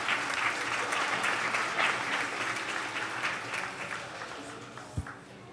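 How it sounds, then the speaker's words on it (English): Audience applause at a live community program, a steady wash of many hands clapping that fades slightly toward the end, with a single louder thump near the close. "Please give them a round of applause for their support of this program."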